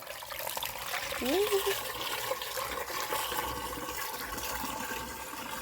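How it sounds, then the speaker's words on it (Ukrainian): Liquid pours and trickles steadily into a garden sprayer, a continuous watery splashing with a brief vocal exclamation near the start. "відкриваю я оприскувач і зараз буду лити, наливати"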